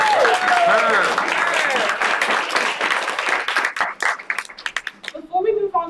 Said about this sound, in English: A little round of applause for yourselves.